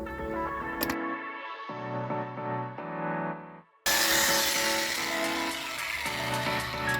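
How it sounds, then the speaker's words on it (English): A power drill whines and grinds as it bores holes into a concrete pathway, running in bursts with pitch changes, a brief pause, then loud harsh drilling resumes. "I'll get out the concrete drill and we'll put 2 holes in here"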